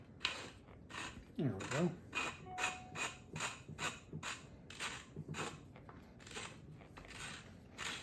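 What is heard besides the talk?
threading a shock into a 1974 Porsche 911S strut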